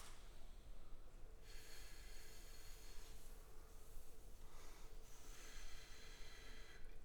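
Air blown out steadily through pursed lips during circular breathing practice, switching from cheek air to lung air, makes a continuous breathy hiss that swells and thins in a few waves with no pause.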